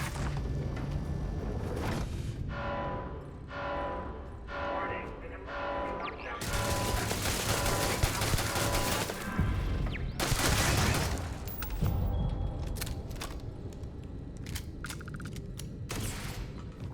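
Gunfire in the video game Starfield, repeated loud shots and rapid bursts with mechanical clanks and crashing impacts throughout, dense and continuous with game sounds layered together and a voice speaking at times.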